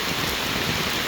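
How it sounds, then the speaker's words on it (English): Heavy rain pouring down in the Philippines, a dense, loud, unbroken hiss of drops striking surfaces, steady and close throughout. "So it's been raining for probably,"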